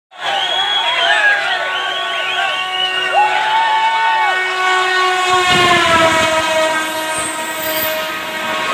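A Shatabdi Express passes at close range in Kolar, Karnataka, its horn sounding long and loud in layered tones before the roaring rumble of the train's wheels and cars takes over near the end.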